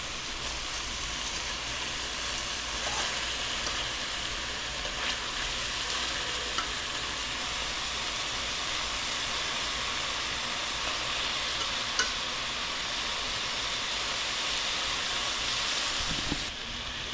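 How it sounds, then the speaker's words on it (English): Meat for pepper steak sizzles steadily in a hot pan, a dense, even crackle of frying that holds at the same close, loud level throughout with no talking over it. "when you brown your meat on one side, then you're gonna turn the meat over and brown it on the other side."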